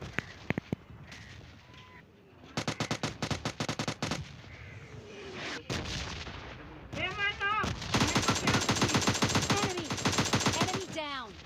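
Gunfire erupts in the video game PUBG Mobile Lite during a fight with a bot, sharp rapid bursts of automatic shots in repeated volleys, with a voice talking between them.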